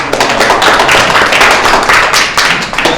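A congregation at a church service claps together, a dense, loud wash of many hands sustained throughout with no talking over it.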